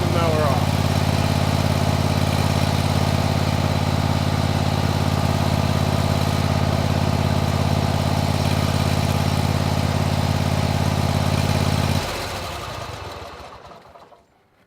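A lawn mower engine runs steadily at a loud, even idle close by, then is switched off and winds down to silence in the final couple of seconds.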